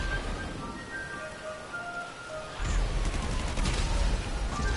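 Rockets fired in a PS4 video game make a steady, crackling barrage of blasts that jumps louder and denser partway through and keeps rumbling to the end.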